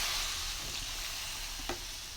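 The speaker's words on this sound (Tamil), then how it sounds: "இப்போ நம்ம எடுத்து வச்சுருக்க புளி கரைச்சலை சேர்த்துடலாங்க." Tamarind extract poured into masala cooking in sesame oil for a garlic kulambu, heard as a close, steady sizzle and frying hiss with a brief stirring clink near the end.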